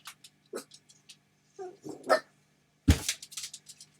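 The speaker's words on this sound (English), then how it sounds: "My dogs think they hear something and they need to go defend me." Dogs bark in short bursts, several sharp barks and a couple of yips, with one loud close bark near the end.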